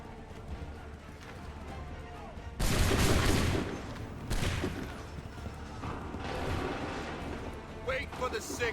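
Musket volley fire in the Assassin's Creed III video game: a loud burst of massed gunfire around three seconds in, a second strong crack near four and a half seconds, then rumbling battle noise under shouted commands.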